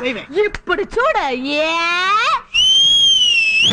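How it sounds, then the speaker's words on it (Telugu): Someone speaks briefly, then lets out a loud, sustained whistle that rises and holds steady for over a second, close and piercing in a Telugu comedy film scene. "నేను ఈల వేస్తే ఎంత మంది వస్తారో తెలుసా?"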